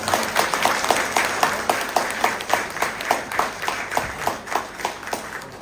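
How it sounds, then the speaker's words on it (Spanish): A church congregation in Buenos Aires applauds in honor of the Señor de Maica, giving sustained, even group clapping with distinct individual claps standing out, heard alone without speech. "Demos un aplauso al Señor de Maica para comenzar"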